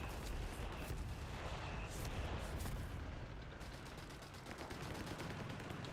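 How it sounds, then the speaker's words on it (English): Artillery barrage in Company of Heroes 3, a dense, loud roll of overlapping explosions and gunfire thudding steadily through the whole stretch, with a voice faintly underneath. "artillery barrage"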